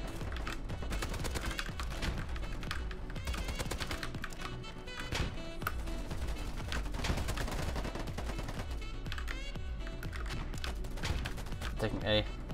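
Dense gunfire from the shooter video game Polygon, including sniper shots, with sharp repeated cracks and bursts over a continuous busy game soundscape, alongside faint in-game activity.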